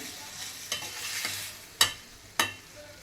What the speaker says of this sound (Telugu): సన్నగా కట్ చేసి పెట్టుకున్న టమాటో ముక్కలు కూడా అందులో వేసుకొని బాగా కలిపి